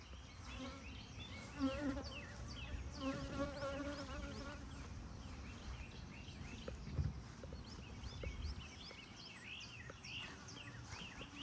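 Honey bees buzz steadily around hives in an apiary, a soft continuous drone with overlapping whines of individual bees passing close, heard alone at low volume throughout.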